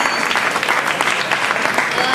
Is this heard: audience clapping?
yes